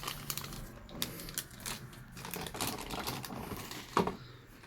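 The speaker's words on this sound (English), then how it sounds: "I'll just remove the other plastic." Plastic packaging being pulled off a large Kotobukiya ARTFX J figure, close crinkling and sharp clicks and snaps in an irregular run, with a louder crackle near the end.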